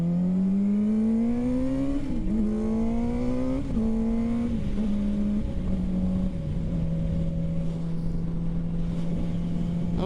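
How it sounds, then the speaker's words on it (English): A car brakes hard and repeatedly on a mountain road to heat its tires. The loud, close engine note drops in several stepped slides as the car slows, with no voices. "Sudden and lots of braking to heat up them tires."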